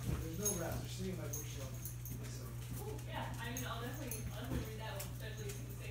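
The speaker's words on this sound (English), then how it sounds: "Except my one whining puppy." A puppy of almost five weeks whines and whimpers in thin, high cries, mixed in with a person talking softly, over a steady low electrical hum.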